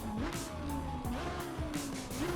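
A racing car's engine in Assetto Corsa EVO revs up and down through shifting pitches, loud and continuous, with rising and falling tones across a short burst and no talking.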